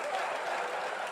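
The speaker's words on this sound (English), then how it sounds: "Yeah, still applauding." A stand-up comedy club crowd keeps applauding, a brief, even wash of clapping heard from the room at moderate volume.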